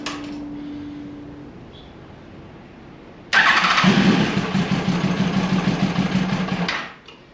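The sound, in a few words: Yamaha FZ1 1000cc motorcycle engine starting on starter fluid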